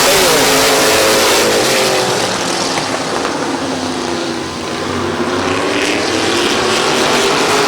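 Race cars at Midvale Speedway, a short-track oval, roaring together through the turns for the 2020 Fall Classic, a loud continuous engine drone with layered, shifting harmonics as the pack passes, steady throughout with a brief dip midway.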